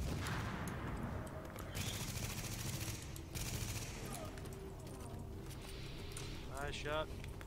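Gunfire in The Division, a third-person shooter, set in a subway morgue mission: a continuous stream of rapid shots, loud and close, with a voice talking at times.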